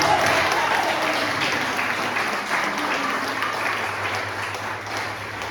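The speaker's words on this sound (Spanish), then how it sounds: "Y denle un aplauso al Señor." A church congregation applauds the Lord after a sermon, loud, full, continuous clapping from many hands in a reverberant hall, holding steady and fading slightly toward the end.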